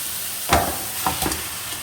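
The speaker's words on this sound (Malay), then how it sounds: "Masa ni masukkan ayam." Raw chicken pieces drop into hot, separated oil in a pan for a chicken and egg curry, giving a few brief sizzling bursts and stirring scrapes over a faint steady fry.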